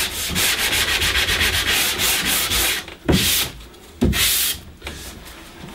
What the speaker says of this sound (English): I'm expecting to need to dig out the sander for